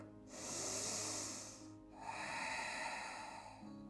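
Slow deep yoga breathing, one long inhale followed by a long exhale through the nose, close to the microphone, soft and airy, no talk.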